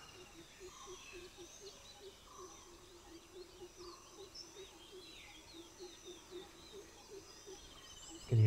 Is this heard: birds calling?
yes